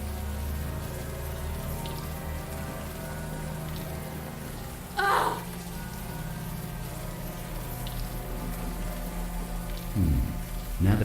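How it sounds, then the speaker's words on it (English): Warm rain falls steadily in the adventure game Unavowed, a continuous wash of patter with a couple of brief louder splashes. "the warm rain is coming down"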